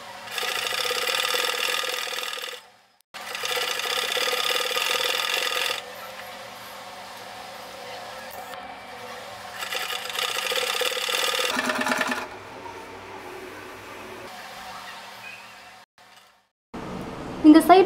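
A domestic sewing machine stitches along the side of a frilled pillow cover made from old tops, running in long steady bursts with short pauses between, close and fairly loud, with someone talking between and over the runs.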